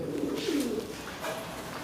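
A pigeon coos softly nearby, a low rolling call rising and falling over a faint background hiss.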